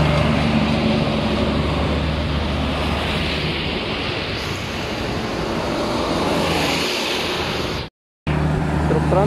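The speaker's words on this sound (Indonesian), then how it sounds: "Truk tronton warna merah." A red tronton heavy truck passes on a road, a steady loud roar of engine and tyre noise mixed with strong wind buffeting on the microphone, cut by a brief dropout near the end.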